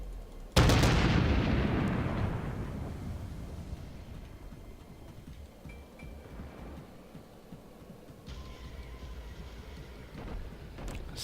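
A warship's gun salvo in World of Warships, fired from the Japanese cruiser IJN Chikuma: one loud, sudden blast followed by a long rumbling decay that fades into a quiet, steady background, with no talking.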